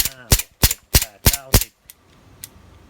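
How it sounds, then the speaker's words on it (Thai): A Beretta gas airsoft pistol fires five sharp, close shots in a quick, even rhythm. Two much fainter clicks follow after a short pause. "ทีนี้ผมก็เลยไปเอา ปืนบาเลต้ามา ลองยิงดูนะครับ"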